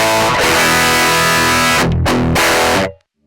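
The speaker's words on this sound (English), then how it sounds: "the sound that you're gonna get out of it is pretty gnarly and brash and brittle" An electric guitar runs through an Origin Effects Revival Drive Hot Rod pedal straight into an audio interface with no amp or cabinet, giving a loud, harsh, fizzy distorted tone with strummed chords and two short gaps before it cuts off.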